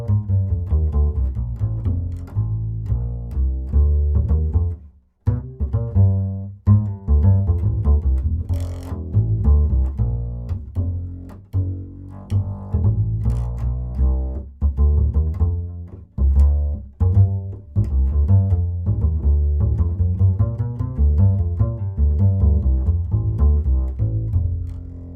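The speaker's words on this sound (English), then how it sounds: "the last microphone in mono that you'll be listening to is the Neumann TLM 103 large diaphragm microphone" An upright bass recorded in mono through a Neumann TLM 103 large diaphragm microphone, plucked notes sounding close and warm in a continuous melodic line with a short break early on.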